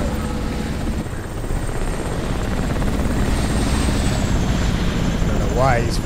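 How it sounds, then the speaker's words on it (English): A helicopter in the video game Crysis Remastered flies low with a loud, continuous rotor throb and engine roar that fill the scene steadily. A brief synthetic tone rises near the end. "There's a helicopter."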